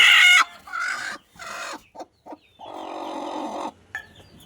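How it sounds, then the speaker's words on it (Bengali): A broody hen clucking and squawking in short bursts while being settled onto eggs in a crate, close and loud, with brief pauses between calls and no talking. "কুচের জন্য যে মুরগিটা বসতে চাইছে ওই মুরগিটাকে নিয়ে এখানে বসিয়ে দিব"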